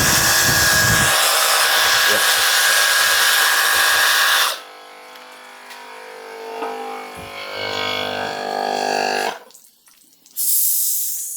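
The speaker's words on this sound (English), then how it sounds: "The compressor keeps running now." The compressor on an Ozito cordless pressure washer runs with a loud, high-pitched motor whine that then drops to a lower, rougher hum, briefly fades, and comes back at full strength.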